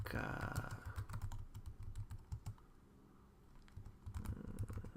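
Quick keystrokes tap on a computer keyboard in bursts as text is entered, close and clear, with a low voice murmuring underneath at the start and end.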